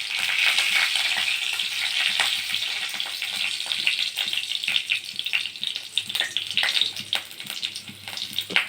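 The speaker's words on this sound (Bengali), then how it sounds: "তেলটা গরম হয়ে গেলে এর মধ্যে আমি দিয়ে দেবো 5 ফোড়ন" Bengali five-spice (panch phoron) and chillies frying in hot oil, a close, crackling sizzle with bursts of spitting pops that gradually thin out, no talking over it.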